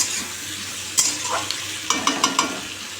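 Capsicum, beans and peas curry with panch phoron, green chilli, salt and turmeric stir-fried in a pan: a steady close sizzle with scraping spatula strokes and light clinks, a sharp knock near one second and a quicker run of stirs later.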